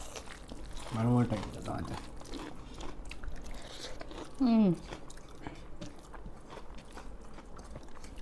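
Close, moist chewing of vegetable rice with pesarapappu (moong dal) and stuffed brinjal masala runs throughout, with soft clicks and mouth sounds, broken by two short spoken remarks.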